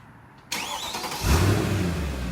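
A 2009 Mercedes S63 AMG fires up via remote start: a sudden whirring crank, then a throaty engine catch and rising rev settling into a steady idle nearby.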